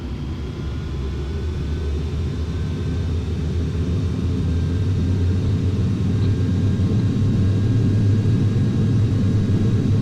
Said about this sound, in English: we just quickly do a high-speed taxi